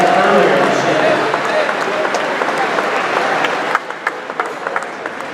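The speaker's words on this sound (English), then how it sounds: "Let's give a big round of applause to the Center of Excellence Awards recipients" Audience applause at a Michigan small business celebration honoring Center of Excellence Awards recipients: dense, steady clapping from a large crowd that thins into scattered claps near the end.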